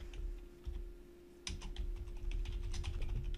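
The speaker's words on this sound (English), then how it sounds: "I'll just type the title and see if I can find it." Typing on a computer keyboard, a quick burst of close, crisp key clicks after a short pause, continuing in an uneven rhythm over a faint steady hum, with no voices.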